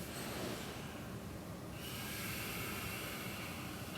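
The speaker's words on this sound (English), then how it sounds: "3 more deep breaths here." Deep breathing during a yoga pose, a close, steady rush of air through the nose shifting from one long breath into the next.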